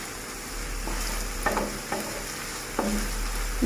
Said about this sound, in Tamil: இந்த பச்சை மிளகாய் வெங்காயம் இறைச்சி எல்லாம் சேர்ந்து நல்லா மிக்ஸ் ஆகி அந்த வெங்காயம் இதெல்லாம் நல்லா சொட்டாகி வரட்டும்.